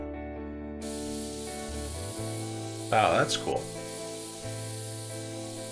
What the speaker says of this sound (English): Let's grab the red spray paint.